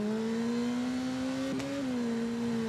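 A superbike engine pulls hard in fourth gear on the Snaefell Mountain Course in TT Isle of Man: Ride on the Edge, a close, steady high-pitched drone that holds and gently rises, with a brief shift blip midway.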